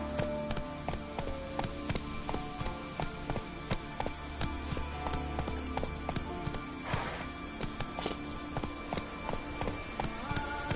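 Roach, Geralt's horse in The Witcher 3, gallops with a steady, rapid clip-clop of hooves, close and continuous, over game music and ambience.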